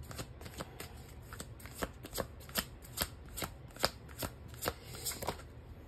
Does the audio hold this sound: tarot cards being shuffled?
yes